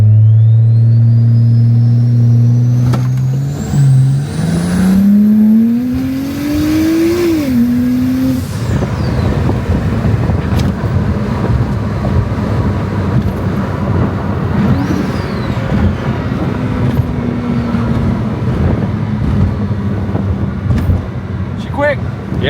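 A 750-horsepower single-turbo N55 BMW E90 with all-wheel drive launches hard, its engine rising in pitch through the gears with a loud turbo whine, then roaring on at speed, heard from inside the car under occasional talk.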